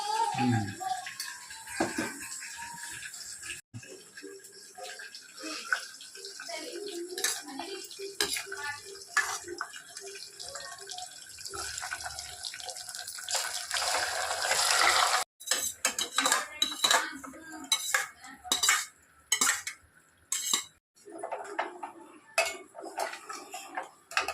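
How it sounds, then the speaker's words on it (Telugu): Metal utensils clatter and scrape against a pan as sorrel leaves are stirred into tempering, in repeated bursts, with faint sizzling and intermittent clinks throughout. "ఇప్పుడు ఈ గోంగూర ఈ తాలింపులు వేసేస్తాను"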